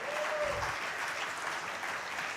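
Sustained audience applause at a chemicals and petrochemicals summit in Gujarat, a dense, even wash of many hands clapping, heard alone at moderate loudness.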